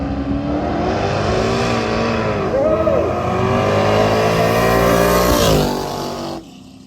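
A 1969 Valiant car drives with a loud, steady engine drone that rises in pitch as it accelerates, then the engine sound drops and cuts off near the end.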